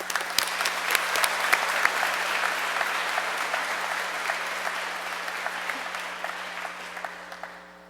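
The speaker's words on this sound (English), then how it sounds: "Let's give him a round of applause." Audience applause fills a graduation ceremony, a steady dense clapping from a large crowd that stays loud throughout and tapers slightly at the end.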